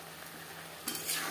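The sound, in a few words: green jackfruit and potato cooking in pan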